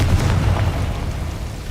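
Fire-spell explosion from Confringo in the video game Hogwarts Legacy, a loud low rumbling blast that holds steady and slowly fades over under two seconds, with no talking.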